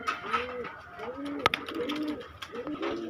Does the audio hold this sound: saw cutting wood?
no